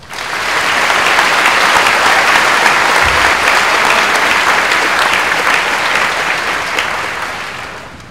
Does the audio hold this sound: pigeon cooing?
no